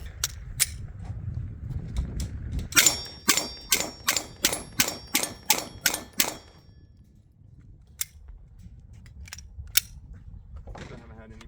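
Glock 48 pistol fired at steel targets outdoors: a rapid string of about ten sharp shots with ringing metallic clangs, followed by a few scattered single shots, some faint, over low background noise.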